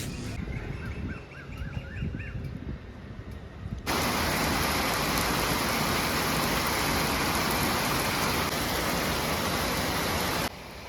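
Birds call and honk over quiet ambience, then a loud, steady downpour of rain suddenly takes over and hisses on for several seconds.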